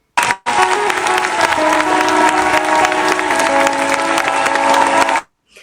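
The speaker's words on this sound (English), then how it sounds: "Let's just give her a round of applause." A crowd applauds and cheers for Cynthia Erivo: loud, continuous massed clapping with a faint tonal layer underneath, starting and stopping abruptly.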